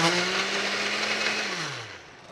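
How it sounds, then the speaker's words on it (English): A kitchen blender whirs through açaí smoothie ingredients, a loud, close, steady motor roar that drops in pitch near the end as the load thickens. "With all of these ingredients in the blender, we're going to blend, and here we go."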